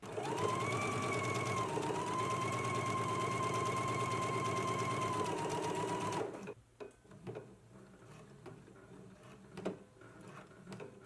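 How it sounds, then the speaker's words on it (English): For about six seconds a sewing machine hums loudly and steadily, stitching the shoulder seams of a dress. It then stops abruptly, leaving faint clicks and handling noises. "Let's go ahead and stitch our shoulder seams now"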